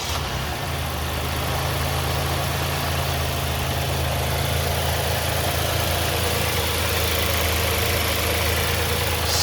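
A 2019 Toyota Highlander SE engine settles into a steady, even idle with a low hum and constant hiss, close and unbroken throughout with no voices.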